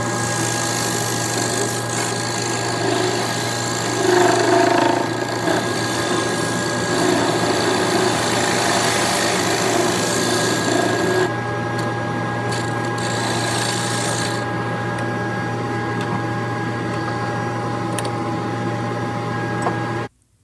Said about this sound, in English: This is a skew cutting tool. All I'm going to do is do a back cut on that recess.